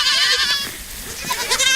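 A fainting goat bleats loudly and close, one wavering, quavering cry stretching across the moment with a brief dip in the middle.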